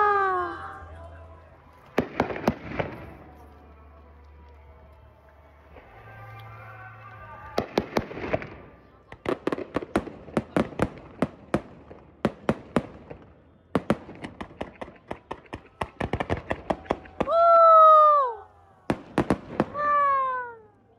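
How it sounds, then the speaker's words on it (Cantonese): Fireworks at the Lake Toya winter fireworks festival in Hokkaido go off in irregular clusters of sharp bangs and crackles, some single and some in rapid bursts, with short lulls between volleys and excited voices calling out near the end. "我哋睇完煙花呢"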